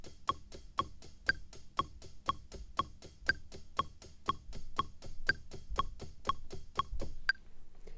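A metronome ticks steadily at an even pulse, with a brighter accented click every few beats, while eighth notes are played along on an Ableton Push 2; crisp, close and dry over a faint low rumble.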